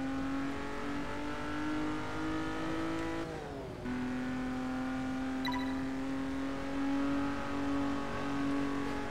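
Lotus Esprit turbo in the racing game Test Drive Unlimited 2, its engine holding a steady high drone, dipping briefly as it shifts, then droning on, loud and unbroken with no talk.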